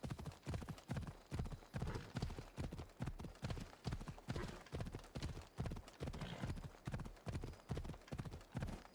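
A horse in Assassin's Creed Odyssey gallops at full speed, its hooves pounding in a steady, fast clip-clop rhythm with regular doubled beats that keep going close and clear.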